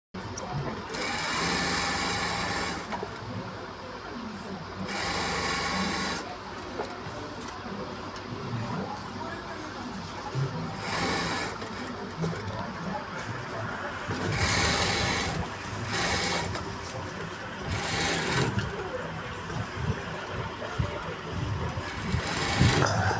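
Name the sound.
sewing machine stitching blouse back piece with lining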